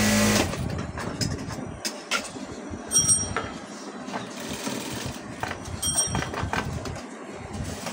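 A sewing machine stitches a ribbon onto a blouse, its steady mechanical whirr running in short continuous bursts with brief pauses between runs, close and moderately loud with no talking.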